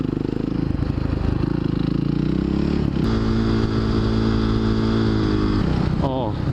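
Light supermoto motorcycle engine running steadily close up while lane splitting in traffic, a continuous buzzing drone that holds an even pitch, then briefly rises near the end.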